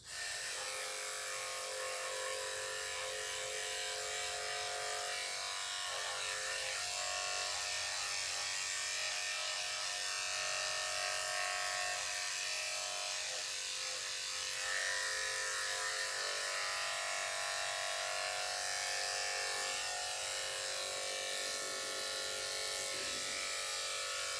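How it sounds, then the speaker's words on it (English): Electric clippers buzz steadily and close up while shaving the delicate insides of a miniature schnauzer's ears, a constant high whirring hum that runs on without a break. "I'm going to shave the insides of his ears."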